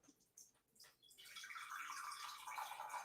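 Water pours into a glass, a short splash building after a few soft clinks into a steady rising gush that swells over the final two seconds, close and fairly quiet.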